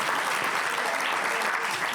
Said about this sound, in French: Sous vos applaudissements, votre secrétaire général.